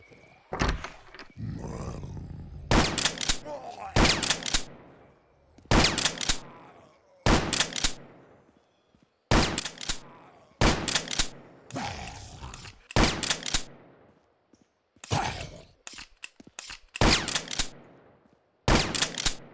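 Shotgun blasts in the video game Wasteland Travelers as zombies are shot, a long string of loud, booming shots fired one by one with short gaps of near silence between them.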